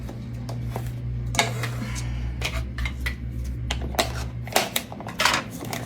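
Repeated crisp snipping and crinkling as scissors cut plastic food packaging, close by, with irregular clicks and rustles over a steady low hum.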